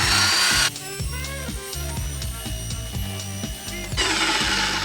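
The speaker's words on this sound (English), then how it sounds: "I'm going to insert the drill all the way down to the very bottom of the bucket." A power drill churning glaze in a bucket, a whirring motor whose pitch shifts as the paddle works up and down, with a louder hiss at start and end.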